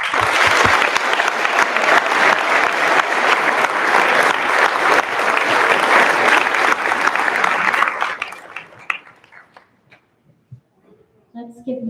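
A high school graduation audience applauds long and loud, dense clapping filling the hall for about eight seconds before it thins into scattered claps and quiet, with a voice briefly heard at the end.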